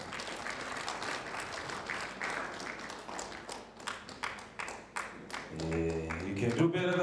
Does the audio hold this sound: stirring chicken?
no